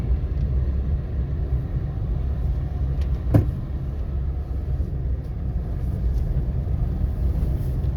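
Goods vehicles passing along an empty road in Mathura, a steady low rumble of traffic throughout with one brief sharper sound near the middle.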